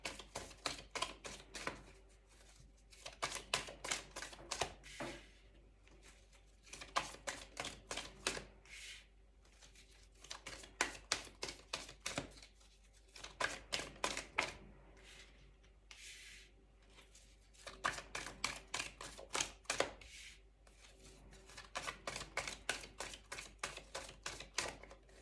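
Tarot cards are shuffled in repeated quick riffling bursts, each a rapid flutter of card edges separated by short pauses, close and quiet with no talking.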